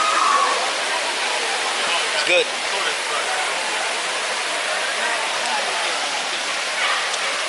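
Waterfall at Eaton Canyon, a steady broadband rush of falling water heard close and constant throughout, with a brief spoken remark over it.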